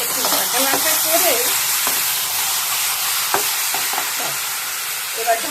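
Potatoes frying in a pan for a breakfast potato bhaji, with a steady broadband sizzle throughout, a few sharp clicks of a utensil against the pan, and faint speech in the background.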